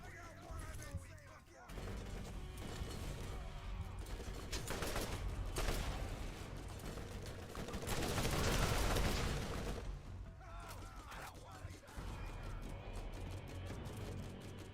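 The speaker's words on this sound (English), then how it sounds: "Throw grenades, more grenades." Grenade blasts and rapid gunfire in the Borderlands video game, set in the Dahl Headlands, forming a loud, dense barrage of shots and booms with a heavier surge of explosions in the middle.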